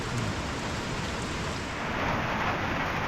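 Heavy rain pours steadily in a forest in rural Thailand or Laos, a dense, even hiss of falling water that stays loud and close throughout, with no voices.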